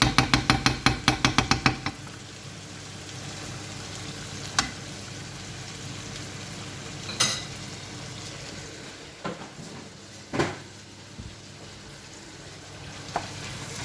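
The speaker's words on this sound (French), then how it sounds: "on mélange ensemble le temps que le fromage fonde" Leftovers stirred in a pan as cheese melts, opening with a rapid run of sharp utensil clicks against the pan, then a soft steady sizzle broken by occasional scrapes and clinks.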